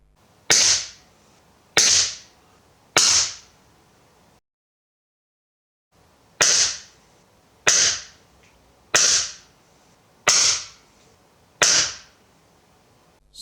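A Walther LP2 single-stroke pneumatic air pistol fires eight sharp, loud pellet shots, three in quick succession, a pause, then five more evenly spaced, each a crisp crack with a short decay.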